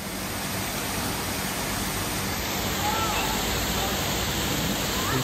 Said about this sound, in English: there's a waterfall down there.